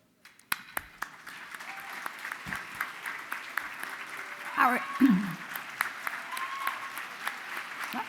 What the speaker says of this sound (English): They're clapping along there.